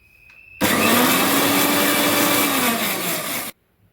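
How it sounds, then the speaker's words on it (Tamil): A mixer grinder grinding coconut, fennel, onion and cumin whirs loudly for about three seconds, starting and stopping abruptly, with a steady high-pitched motor drone. "தேங்காய் சோம்பு வெங்காயம் சீரகம் ரெண்டு போட்டு அரைச்சாச்சு"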